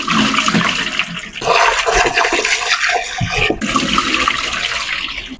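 Water being poured off and changed while washing peeled beans for Nigerian akara, a loud splashing gush that surges, pauses briefly, then rushes again, close up with no speech.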